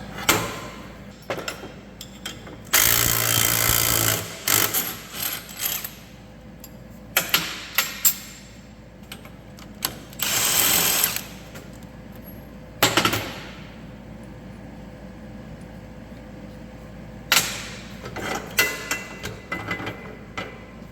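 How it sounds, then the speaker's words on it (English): An impact wrench takes a bolt out on an Allis-Chalmers 190XT tractor in short, loud, rattling bursts spread across the clip. Clanks and knocks from the workshop fill the gaps between them. "Grab an impact and we'll take this bolt out."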